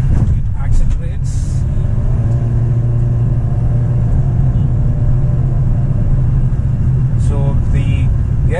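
A 2015/16 Honda Jazz S automatic's engine drones and rumbles steadily from inside the cabin, pulling under acceleration in sport mode, with brief clicks and a short rattle near the start and end.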